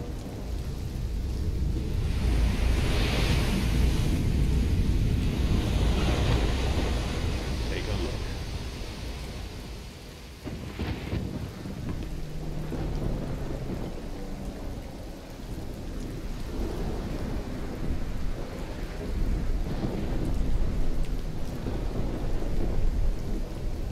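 Thunder rumbles and steady rain roars through a stormy sea scene in the video game Risen 2, loud and continuous with heavy low-end swells, while voices speak faintly beneath the downpour.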